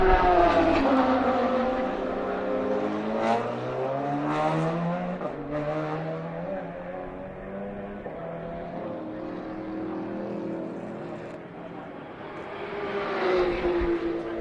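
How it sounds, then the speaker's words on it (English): A Peugeot race car at a three-hour endurance race pulls into the pit garage, its engine revving and dropping in pitch with strong rising and falling harmonics, loud and near, then swelling again at the end. "the Peugeot's in and it's pulling into the garage again"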